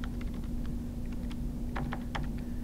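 Someone taps a computer keyboard in short, irregular bursts of soft clicks, close and fairly quiet over a steady electrical hum, with a few brief pauses between keystrokes.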